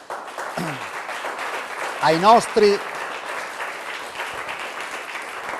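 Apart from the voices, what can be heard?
studio applause on a TV show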